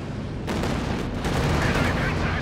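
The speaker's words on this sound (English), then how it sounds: "Just going for a close range barrage." IS-2 tank barrage in Company of Heroes 2, a dense continuous roll of gunfire and explosive rumble that swells loud after a quieter opening.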